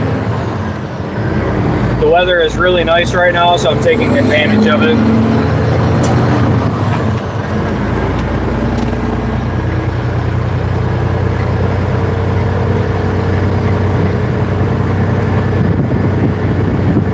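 A steady Freightliner truck engine drone with road noise inside a cab, a brief hiss of air brakes, while someone talks over it.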